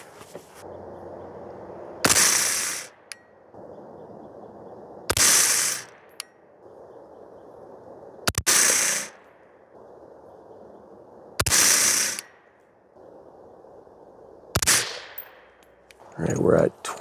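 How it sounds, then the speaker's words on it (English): Five loud 5.56 rifle shots loaded with Starline brass ring out one at a time at an outdoor range, spaced about three seconds apart, each a sharp crack with a brief decaying tail over a low steady background. "we're going to shoot our first group, and that is with the Starline brass"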